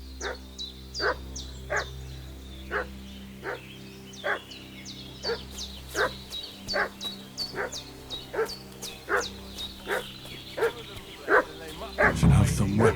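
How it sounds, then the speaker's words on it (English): Dog barking repeatedly in Kingdom Come Deliverance 2, a steady series of sharp barks about once a second, fairly close, with a low ambient hum underneath and a burst of louder noise at the end. "What's that dog making such a fuss about?"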